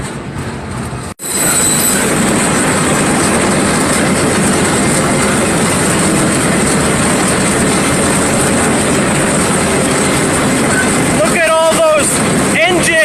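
Loud, continuous rumble of a freight train with several locomotives rolling on the tracks nearby at Roseville, with wheel squeal near the end and brief talking.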